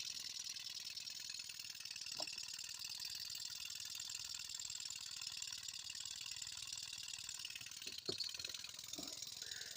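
A small Graham Engineering HM1 model engine, 11/32 in bore and 1/2 inch stroke, runs steadily with a fast even mechanical whir and a couple of faint clicks, alone and fairly quiet.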